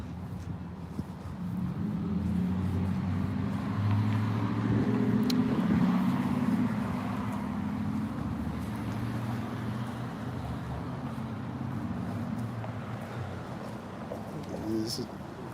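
Cars and a truck pass on a road, a steady low rumble of traffic with engines swelling and fading, moderately loud, and a voice speaks over it.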